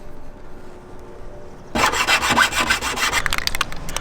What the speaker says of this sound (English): Just gotta use the metal file to file off the edges.